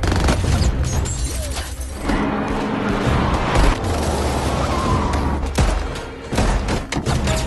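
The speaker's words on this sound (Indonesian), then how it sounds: "berujung terjadinya tembak-tembakan" Loud bursts of gunfire and booming impacts erupt repeatedly amid a dense, chaotic action soundscape during a shootout in the film The Batman.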